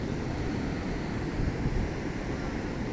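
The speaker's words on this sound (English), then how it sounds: "The set waves are the big ones that come in a set." Ocean set waves breaking in a steady, continuous wash of surf with a low rumble and wind buffeting, no clear individual crashes standing out, no voices.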